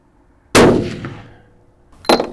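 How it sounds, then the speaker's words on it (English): Two shots from a Bergara B-14 HMR rifle firing Hornady 147 grain ELD ammunition at a 100-yard range, each a sharp, loud crack with a ringing decay, the second following about one and a half seconds later. "We're just going to shoot at 100 yards."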